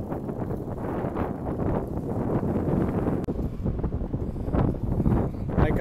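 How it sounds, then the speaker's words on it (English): Gusty wind buffeting the microphone with low rumbling bursts, fairly loud and continuous, with faint background sounds mixed in. "Hope you can hear me because it is quite windy"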